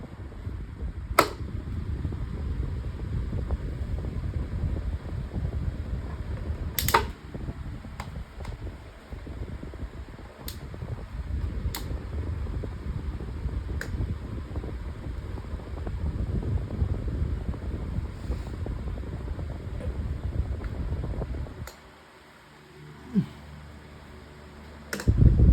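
A Climate Keeper 12-inch table fan runs on high speed with a steady, soft whoosh of moving air, close and even, broken by a few sharp clicks and a brief quiet patch near the end.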